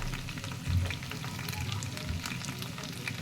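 Potatoes and onions stir-fry in a pan for aloo chilli, a soft continuous sizzle broken by scraping stirs, close and fairly quiet with no talking.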